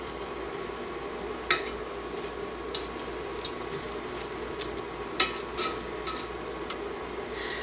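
Bread slices toasting in a frying pan for French onion soup, with a soft, steady sizzle and a few sharp taps and scrapes from a utensil against the pan.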